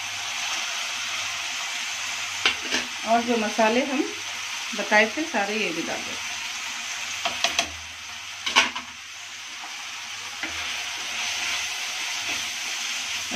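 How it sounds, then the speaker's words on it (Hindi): Fish biryani masala and tomatoes sizzling in hot oil in a pan, a steady crackling fry under a voice, with occasional scrapes and clinks of a spoon stirring. "इसको अच्छे से फ्राई करेंगे हम"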